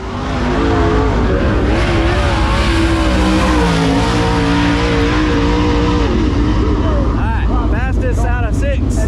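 Race car at full throttle on the Senoia track, a loud, sustained engine roar with wavering pitch as it drives through the lap, then easing near the end, where a voice briefly speaks.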